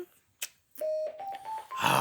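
A phone gives a rising series of short electronic tones, one after another and close by, after a couple of soft knocks and rustles.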